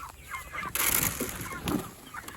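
Rainbow Ranger chickens at feeding time, a flock clucking and squawking close by in short bursts, with a louder flurry in the middle.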